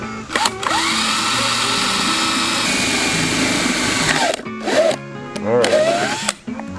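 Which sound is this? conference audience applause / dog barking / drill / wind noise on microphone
drill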